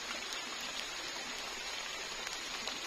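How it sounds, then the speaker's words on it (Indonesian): Heavy rain pours down steadily around a house amid trees and grass, a dense, constant hiss with scattered drops striking nearby surfaces. "Tadi sih baru gerimis, sekarang udah hujan gede."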